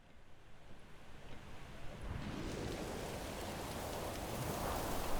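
Rain in the video game Three Fourths Home, a faint hiss that swells into a louder steady wash of rainfall partway through and keeps building toward the end.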